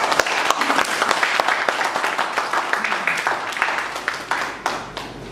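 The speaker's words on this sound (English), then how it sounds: "A big round of applause for Shuruk." Members at a Toastmasters club meeting give a round of applause, with steady, hearty clapping from a small room audience and distinct individual claps popping out. The clapping thins slightly toward the end.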